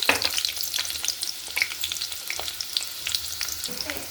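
Thinly sliced onions and two green chillies fry in hot oil, giving a steady, close crackling sizzle with small pops throughout and no voices.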